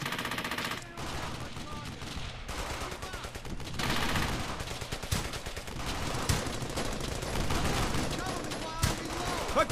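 Dense rapid gunfire from the WWII shooter Brothers In Arms: Hell's Highway crackles throughout, with overlapping bursts and loud sharp shots under a busy battlefield mix and occasional shouting.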